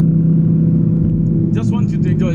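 A Lamborghini Huracan Evo engine droning steadily from inside the car while driving, a loud low hum that holds throughout, with a short burst of sharper clicks near the end.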